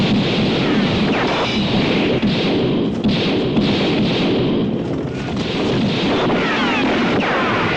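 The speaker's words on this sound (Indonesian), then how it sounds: "Socha langsung berlari ke dalam hutan bambu sambil diberondong dengan tembakan Belanda." Heavy, continuous gunfire from Dutch troops in a battle scene of an Indonesian action film, a dense roar of shots and blasts with no let-up, loud and close throughout.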